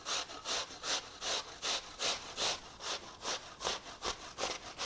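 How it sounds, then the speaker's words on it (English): Apples are grated by hand on an old-fashioned box grater for a carrot, apple and beet salad, a close, steady rasping that repeats in quick, even strokes throughout. "an old-fashioned box grater works just fine."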